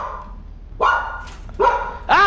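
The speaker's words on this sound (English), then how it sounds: "Goddamn dog." A dog barks in quick succession, three loud close yelps and bow-wows, rising in pitch, over a low background hum.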